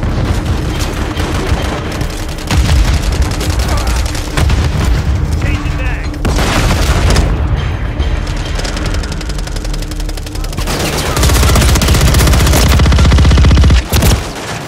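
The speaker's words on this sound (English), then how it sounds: "Stun grenade, frag out!" Stun and frag grenade explosions go off amid dense, loud gunfire and booms in a Call of Duty Modern Warfare 3 multiplayer match, with heavy continuous rumble and a player talking over it.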